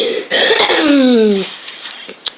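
A single loud, strained cough with a rasping, descending tone, followed by quiet, during Fruit Ninja gameplay.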